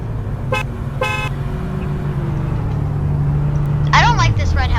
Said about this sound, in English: Stop honking.